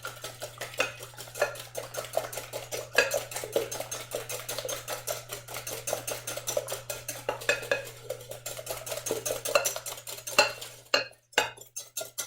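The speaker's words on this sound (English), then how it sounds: "we're going to give that a pre-mix" A utensil briskly beats an egg mixture seasoned with salt and pepper in a bowl, making a fast, steady clatter of clinks against the sides, close up and alone, stopping near the end.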